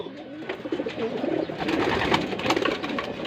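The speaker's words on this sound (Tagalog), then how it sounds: "ayun yung mga ibon natin, mga kalapatids" Racing pigeons coo in their loft, several soft throaty calls overlapping close by against a low background rustle.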